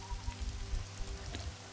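Rain ambience plays during a tabletop role-playing session, a steady soft patter of rain on a surface with a low rumble underneath, faint and continuous with no voices over it.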